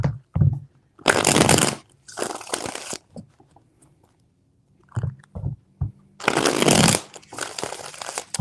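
Tarot cards riffle-shuffled in several loud, close bursts of crisp papery fluttering separated by quieter gaps with soft handling taps.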